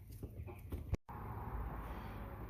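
Nine-week-old American Bresse chickens from a line-cross flock cluck and chatter softly in a coop, with a brief dropout partway through.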